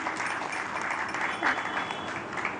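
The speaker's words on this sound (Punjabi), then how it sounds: "ਇੱਕ ਵਾਰ ਜ਼ਰੂਰ ਉਹਨਾਂ ਦੇ ਨਾਮ ਤੇ ਜ਼ਰੂਰ ਤਾੜੀ ਲਾ ਦਿਓ" Audience applauding for parents at a public event where the Chief Minister's wife speaks, a steady, dense wash of clapping from a crowd, moderately loud and continuous throughout.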